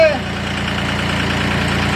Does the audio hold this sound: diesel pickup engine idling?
yes